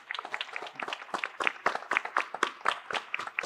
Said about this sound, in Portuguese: Gostaria que todos dessem uma salva de palmas.